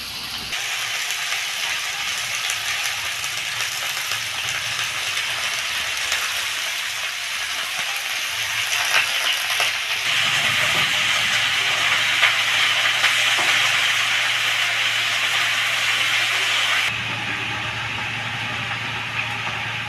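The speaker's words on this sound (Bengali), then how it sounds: "সবজিগুলো ভাজা হয়ে গেছে এখন আমি বাড়ির পুঁই শাকগুলো মা কেটে দিয়ে পরিষ্কার করে রেখেছিল এটা এখন দিয়ে দিচ্ছি আমি" Home-grown Malabar spinach dropped onto fried vegetables in a pan, a loud, continuous broad sizzle and hiss that rises after the leaves go in and carries on steadily, with no talking.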